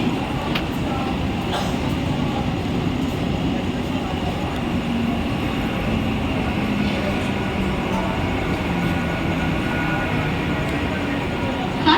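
A loud, steady rumble of a Mumbai Central line local commuter train at a station platform at night, continuous and close, with faint voices mixed into the din.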